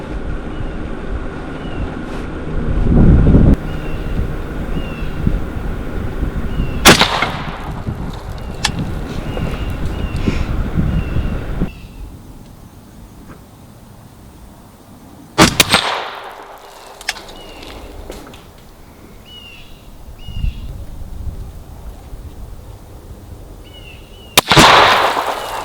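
A dirty gun is test fired outdoors, with three sharp, loud gunshots spaced several seconds apart over a steady background of wind and ambient noise.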